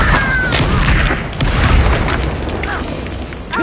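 Bombarda spell explosion in a wizard video game, a loud booming burst with crackling debris amid other game effects.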